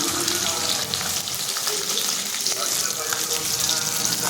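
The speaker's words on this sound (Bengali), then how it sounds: "এবার আমি একে একে ভোলা মাছগুলোকে ভেজে নেব।" Bhola fish pieces, rubbed with salt and turmeric, fry in hot oil with a dense, continuous crackling sizzle that stays loud and even throughout.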